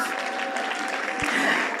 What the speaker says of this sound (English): Put your hands together for yourself.